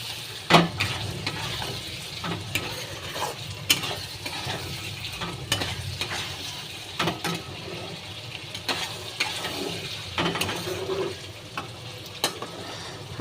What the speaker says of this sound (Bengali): তার আগে একটু ভালো করে নেড়ে নিচ্ছি